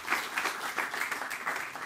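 Audience clapping at a Purim-season lecture in Holon, a dense, steady patter of many hands held at moderate loudness with no voices over it.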